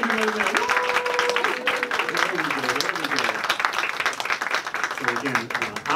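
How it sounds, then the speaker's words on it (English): A seated audience applauds a panel at a congressional briefing on foster youth, with dense steady clapping throughout and voices talking over it. "Give this panel a round of applause."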